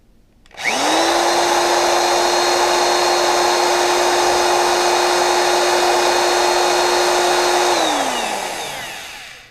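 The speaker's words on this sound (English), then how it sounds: "now we're going to try a Black & Decker power drill" A Black & Decker power drill spins up sharply, holds a steady high whine for about seven seconds, then winds down, loud and close with no talking.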